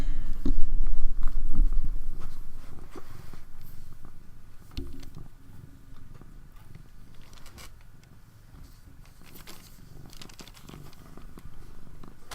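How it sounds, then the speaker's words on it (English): A cat purrs close up in a steady low rumble throughout, loudest at the start and then settling to a softer, continuous drone with faint rustling. "Purrs are really a soothing sound."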